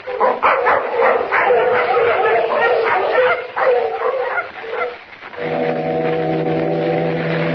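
Several sled dogs bark and yip excitedly in rapid bursts, then a deep, droning foghorn blast takes over and holds steady.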